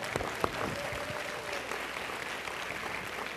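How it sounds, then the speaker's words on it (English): A school convocation audience applauding new teachers, a dense, steady wash of clapping heard from some distance, fairly faint throughout. "Let's give them a round of applause."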